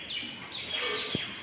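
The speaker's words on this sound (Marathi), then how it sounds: "पक्ष्यांचे आवाज येत आहेत वरती" Birds chirp overhead among garden plants in a short, thin twittering call, faint and somewhat distant over a light outdoor hiss.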